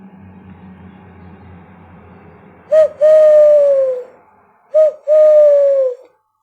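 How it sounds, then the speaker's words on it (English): An owl hoots twice, each a short note followed by a long, wavering hoot, loud and near over a faint background hum. "That's the owl."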